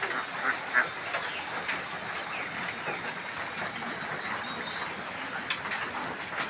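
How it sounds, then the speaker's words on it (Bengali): Ducks on a small family farm quack in a few short bursts over a steady outdoor wash of ambient noise, with no speech. "ওই যে হাঁসের খামার। এখানে আছে 6টা হাঁস আছে"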